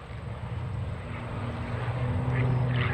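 Engine drone of Michael Wiskus's aerobatic airplane at the 2020 New York International Air Show, a distant steady propeller hum that swells gradually louder over a few seconds.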